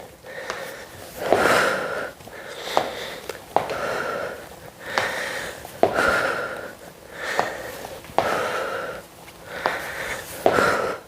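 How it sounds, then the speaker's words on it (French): A person exercising with dumbbells breathes in and out forcefully, about ten loud, close sniff-like inhales and puffing exhales repeating in a steady rhythm, with no voice over them. "Inspire, expire. Inspire, expire."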